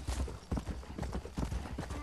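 Horse hooves clip-clopping in the Western video game Red Dead Redemption, a steady galloping rhythm of close, loud hoofbeats, with a faint whinny near the end.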